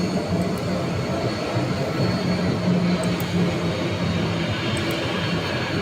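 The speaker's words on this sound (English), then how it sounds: "And our San Francisco flight looks like it's going to be going into a gate." An airliner taxies toward a gate at Phoenix airport, a steady whining jet-engine roar holding at moderate distance with a constant broad rumble underneath and no voices.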